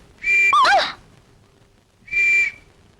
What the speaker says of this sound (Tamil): வயித்துல இருந்து விசில் சத்தம் வருது